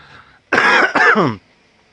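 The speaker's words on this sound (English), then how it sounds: "I'm gonna have to cough because I feel like, I got a, phlegm ball up in my throat." A single loud, close cough blending into a harsh throat clearing, two quick bursts in succession after brief quiet.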